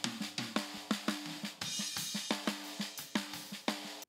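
Drum kit processed with heavy compression and dramatic EQ, kicks and snares hitting in a steady rhythmic pattern with a sharp snappy attack and dense room sound, loud and alone with no talking.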